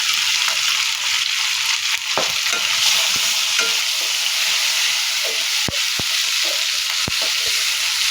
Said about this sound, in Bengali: মশলাটা ভালো করে কষিয়ে এখানে শুকনা মরিচ তারপর পেঁয়াজ